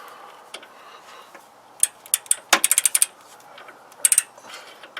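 Ratchet tightening ball joint bolts on a Toyota 4Runner: sparse clicks, then quick bursts of sharp ratcheting ticks with short pauses between them, close up and fairly quiet.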